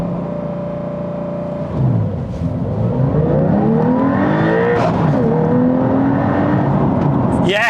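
A Porsche 911 Carrera T with a manual gearbox launches hard, its engine note climbing steeply through the revs, with a brief dip at each gear change before it pulls upward again, loud and close from inside the car.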